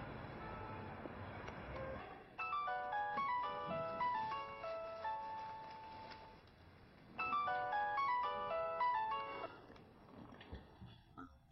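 An outgoing phone call rings back, heard as a repeating bright electronic melody in two bursts separated by a pause, over a low background hum with no talking.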